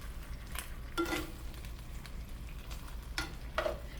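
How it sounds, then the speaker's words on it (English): Red chile and garlic being mixed in a clay cazuela, a spoon scraping and clinking against the pot in a few short strokes over a faint simmering hiss, no talking. "Now mix it really well."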